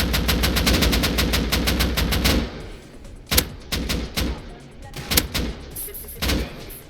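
Gunfire in the video game Rust: a rapid automatic burst for the first two seconds, then scattered single shots and short volleys, loud and close, with players talking in between.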